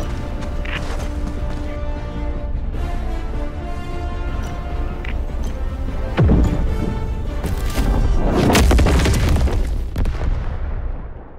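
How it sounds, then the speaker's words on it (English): Orbital strike explosions in the video game Helldivers 2 arrive as loud booming blasts over a constant dense battle din, with a sharp impact around the middle and a heavier rumbling burst near the end. "Orbital strike incoming."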